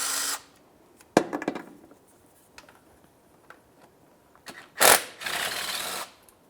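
Tools working on the transmission oil pan bolts of a 2000-2005 Buick LeSabre, a few sharp metallic clicks and clanks, then a louder burst of rattling and scraping near the end, with quiet gaps between.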